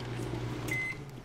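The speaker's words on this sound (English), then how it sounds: "the authentic microwave experience" A microwave oven in the DayZ video game hums steadily with a low drone, and a short high beep-like tone sounds briefly midway, at a moderate level with no voices.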